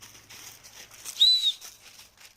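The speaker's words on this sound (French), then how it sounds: "Alors on va tester le sifflet." A short, shrill blast from a survival whistle rings out once, high-pitched and piercing, amid faint outdoor rustling.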